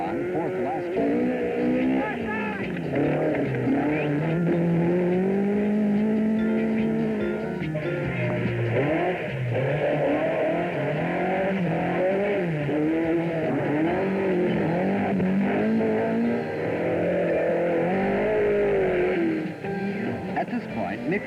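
Early 1980s WRC rally cars, Audi Quattros and a Toyota Celica, racing with engines revving and changing pitch continuously, heard under steady commentary.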